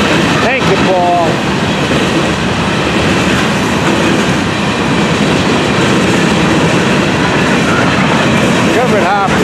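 An FEC freight train of covered hoppers, tankers and intermodal cars rolls past close by, with loud continuous rumbling and clickety-clack, brief wheel squeals and some voices under the noise.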